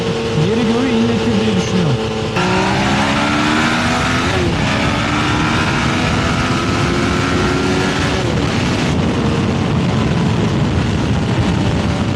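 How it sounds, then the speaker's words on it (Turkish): A Yamaha Tracer 900 motorcycle engine with stock exhaust idles and revs steadily with a smooth, mellow exhaust note, close by, with someone talking over it throughout. "Stop egzozu var bu arada. Çok tatlı bir sesi var."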